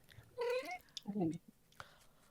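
Cat meows twice in quick succession, a drawn-out higher cry followed by a lower, shorter one, fairly close and clear, with faint background noise and small clicks around it.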